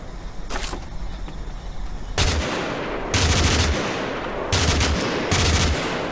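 MP40 submachine gun firing inside the battle game TABG: loud bursts of full-auto fire, with a faint burst early and then four heavy bursts, each lasting roughly half a second to a second, played close and alone.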